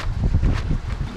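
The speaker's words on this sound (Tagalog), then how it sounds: "Yung mahangin-hangin na rin dito." Steady gusty wind buffeting the microphone, a low rumbling roar with rustling fluctuations throughout.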